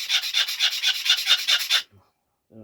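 A knife tip ground on a rough sharpening stone gives a loud, steady rhythmic rasp of repeated strokes for almost two seconds, then a sudden stop, a short silence and a brief scrape near the end.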